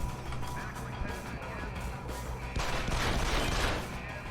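Sustained gunfire from the video game Deus Ex: Human Revolution, a dense continuous barrage that grows louder and busier partway through, with faint voices underneath.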